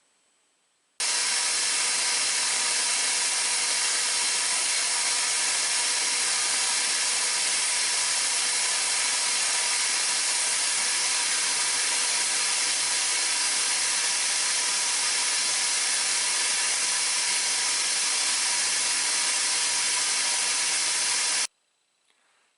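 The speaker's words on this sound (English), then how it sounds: "Just a few seconds on that flatbed sander is going to enable me to make the bottom of that absolutely flat and also grind the wood to the metal." Flatbed belt sander grinding wooden knife grips flat against the metal tang of a paring knife, a steady loud abrasive whir that starts abruptly, holds unbroken for about twenty seconds, then cuts off, with no talk.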